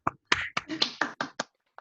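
A handful of separate sharp claps and taps come through unmuted home microphones in an online graduation celebration, sparse and uneven, with short gaps and a final faint clap.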